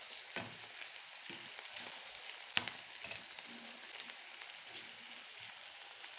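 Liver and gizzards sizzle and crackle steadily in a frying pan, with occasional stirring scrapes and clinks against the metal, close and continuous with no talking.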